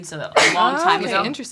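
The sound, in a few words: sneeze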